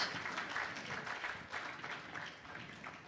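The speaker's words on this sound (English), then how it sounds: "I wish we could give him a wide round of applause." Audience applause at a World Food Safety Day commemoration and national food safety policy launch, a steady wash of many hands clapping at moderate distance, fairly quiet and continuous throughout.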